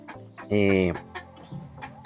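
A loud cluck from a white hen rings out once, brief and close, followed by quieter scattered background sounds.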